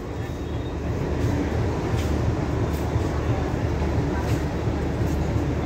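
The Maitree Express, an Indian-rake train, rumbles at Hardinge Bridge with a continuous loud low roar and rattle of rolling wagons, steady for the whole span with faint higher squeals on top.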